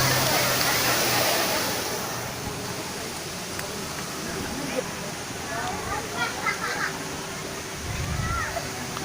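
Curug Cigeuntis waterfall at the foot of Mount Sanggabuana pours in a continuous rushing roar, with voices and faint splashes scattered over the steady water noise.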